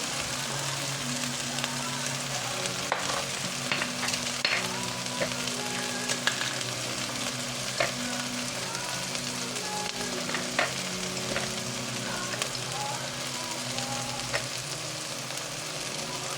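Ground pork giniling with carrots and potatoes fries in olive oil, giving a dense, steady sizzle with occasional stirring clinks, close and continuous throughout.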